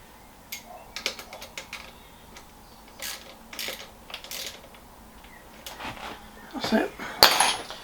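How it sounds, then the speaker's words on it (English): Metallic clinks and ratcheting taps of a spanner tightening a part on a bike, a scattered series of short close knocks and scrapes with a louder clatter near the end. "I will just pull that down and tighten it up if I can find my spanner"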